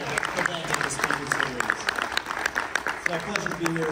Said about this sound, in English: Another round of applause, please, for Beverly.